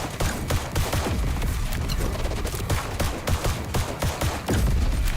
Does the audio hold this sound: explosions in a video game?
yes